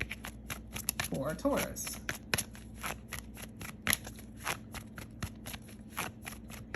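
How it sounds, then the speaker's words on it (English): A deck of tarot cards is shuffled by hand at close range in a steady run of crisp, rapid riffles and taps, under a quiet voice speaking briefly. "I'm going to shuffle again"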